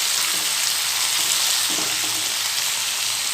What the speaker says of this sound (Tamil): கடுகு பொரிஞ்சதும் நெக்ஸ்ட்டு நம்ம எடுத்து வச்சுருக்கிற ஒரு அரை கிலோ தக்காளி, இதையும் நம்ம ஆட் பண்ணிக்கலாம்.